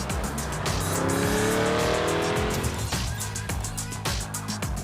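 A 2025 Chevrolet Corvette E-Ray with carbon brakes roars loudly, then winds down as it brakes hard from 100 km/h, tires squealing as it slows sharply.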